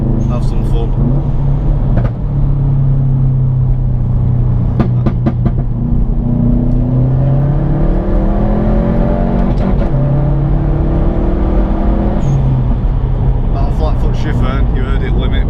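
A Subaru WRX STI engine held against its launch control limiter, a loud steady droning rev with wavering pitch heard from inside the car, someone talking over it.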